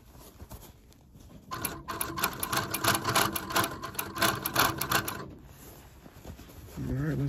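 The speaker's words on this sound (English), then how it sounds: "This is when post machines come in handy because a lot of bulk underneath there." Post bed sewing machine stitching through bulky leather on a jacket during alterations, a steady mechanical chatter running for several seconds mid-clip between quieter handling noises, with a voice briefly near the end.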